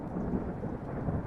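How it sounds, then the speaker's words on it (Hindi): Thunder rumbles low and continuous in a forest as rain begins, a storm sound effect in a narrated Hindi horror story, heavy and steady throughout with no speech over it. "बादल गरजने लगे"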